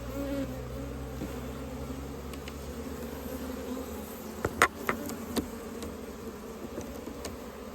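Disturbed honeybees drone in a steady, dense buzz around an opened hive during a midsummer mite-trapping inspection, with a few closer bees zipping past loudly near the middle.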